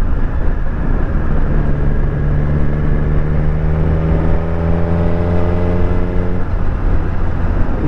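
A Suzuki GSX-R1000 motorcycle engine while riding on an autumn day, a loud, steady drone with rising harmonic tones as the engine pulls, mixed with constant wind rush close to the rider.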